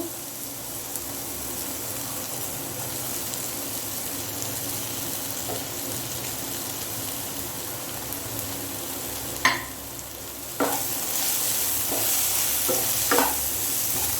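Chopped medium potato frying with onions in a pan for poha, a steady close sizzle with occasional stirring scrapes and clinks, no talking.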